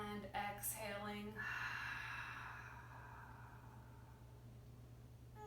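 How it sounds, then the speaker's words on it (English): An audible breath exhaled during a no-equipment stretch and strength workout, a single long airy exhale following a brief intake, close and fairly soft over a steady low hum, with no talk. "I want you to audibly exhale."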